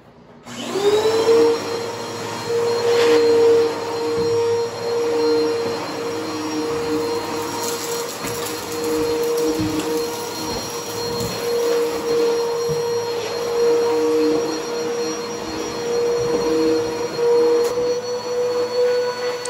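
A vacuum cleaner with a hose attachment sucks up loose debris along the gap between concrete flooring and drywall, a loud, steady whine with a constant drone that runs unbroken from start to finish.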